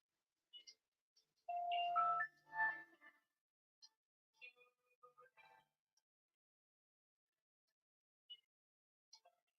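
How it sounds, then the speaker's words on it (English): A phone ringtone with a gothic guitar sound, a short melodic burst of plucked tones around two seconds in, then faint scattered blips in a quiet room. "Kind of a gothic guitar ringtone."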